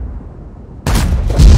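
A tank cannon fires in the World of Tanks video game: one sudden loud boom breaks in after a quiet rumble, then a heavy rolling blast and a low thump trail off, with no talking.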